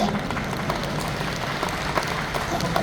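Audience applause at a lecture hall talk, a dense, steady wash of many hands clapping together, fairly loud and continuous throughout with no voices over it.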